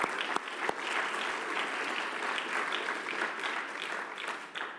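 Steady, dense applause from a conference audience, a continuous wash of many hands clapping at even loudness for several seconds, with a few sharper individual claps near the start and no speech over it.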